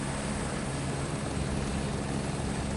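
An Airbus helicopter taxiing in Microsoft Flight Simulator 2024 gives a steady, loud rotor and turbine drone with a constant high whine, unbroken throughout without speech.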